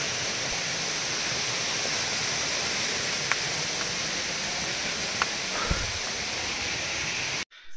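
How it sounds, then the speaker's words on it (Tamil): Streams and small waterfalls along the Agasthiyar hill trek in the Pothigai hills, a steady, full rushing of water that fills the whole clip, with a few faint ticks over it before it cuts off abruptly. "ஓடைகள், சிறு சிறு நீர்வீழ்ச்சிகள் ரொம்ப நல்லா இருக்குங்க."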